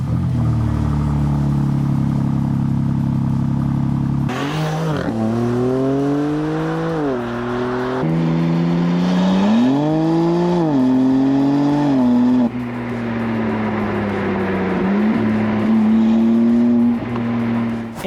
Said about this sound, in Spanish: la nota del motor, o sea el sonido que hace, es una delicia